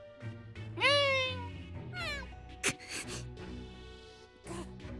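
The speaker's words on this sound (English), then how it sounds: "You can't attack the kitty cat!" A cat in the Norn9 video game meows several times, clear and close, with sliding high cries amid soft background music and a brief sharp hit.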